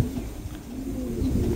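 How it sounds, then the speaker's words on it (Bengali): Pigeons coo in a short, steady low murmur, several birds close by with overlapping calls and no talk. "এই জোড়া রানিং আছে, যারা রানিং কবুতর"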